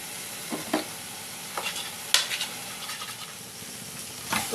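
Vegetables fry quietly in a pan while a utensil stirs them, giving a soft sizzle broken by several sharp scrapes and clinks of metal against the pan. No one speaks.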